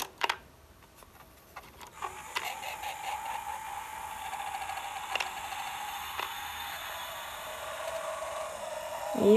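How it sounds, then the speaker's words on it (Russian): A battery-powered toy coin bank takes a coin, its mechanism giving sharp clicks and ratchet-like ticks over a steady motor whir that runs for several seconds. Nobody speaks. "Вставляется монетка. Здесь у нас два контакта, которые срабатывают, когда вставишь монетку."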